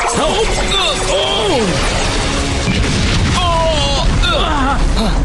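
A Steel Blade Scatter Shot attack from a Power Rangers Samurai fight erupts in a loud, sustained barrage of booming, crashing blasts. Shouting voices, sweeping tonal effects and music run continuously across the mix.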